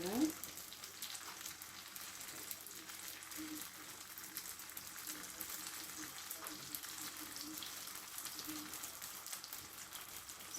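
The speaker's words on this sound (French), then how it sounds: "je vais les faire frire" Chicken legs frying in hot oil, a steady close crackling sizzle that continues evenly without pause, with no talking over it.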